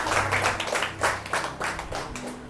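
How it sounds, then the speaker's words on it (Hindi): Rhythmic clapping from a church congregation, steady repeated claps filling the room at moderate loudness, with a faint voice underneath. "ताली बजाएंगे।"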